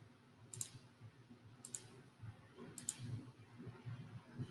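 Computer mouse clicks, three sharp single clicks spaced about a second apart, close and crisp over a soft background of low, quiet room noise.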